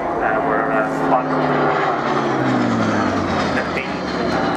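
A Hawker Sea Fury piston-engine fighter flies at the Yeovilton air show, its propeller engine droning steadily with a falling pitch as it passes, while a commentator talks throughout.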